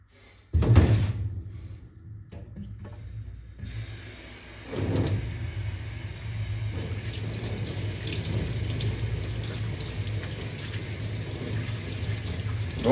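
Tap water runs steadily and fairly close for several seconds at a workshop sink, starting after a door-like clunk and brief knocks, with no talk.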